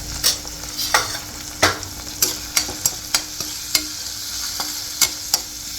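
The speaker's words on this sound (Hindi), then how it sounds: "थोड़ा इसको भून लेंगे फ्रेंड्स।" Spinach, paneer and spices sauté in a pan with a steady close sizzle, broken by a dozen sharp scraping stirs at uneven intervals.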